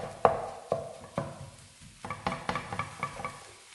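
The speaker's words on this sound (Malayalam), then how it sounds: "ഇത് ഈ സ്പാച്ചുല കൊണ്ട് നന്നായിട്ട് ഇങ്ങനെ ഉടച്ച് ചേർക്കുക." A spatula mashes leftover parotta and chicken pieces in a pan for kothu parotta, giving a faint series of soft knocks and scrapes, a few spaced taps first, then quicker clustered strokes, with no voices.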